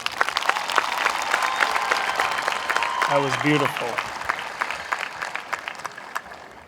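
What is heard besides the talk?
audience applause after a song at a graduation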